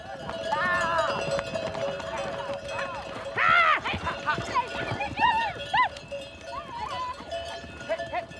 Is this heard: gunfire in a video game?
no